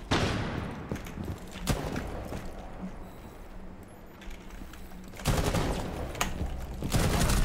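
Rapid bursts of automatic gunfire from a Rainbow Six Siege match, loud and close, with a dense volley at the start, shorter shots in between and heavy sustained firing again near the end.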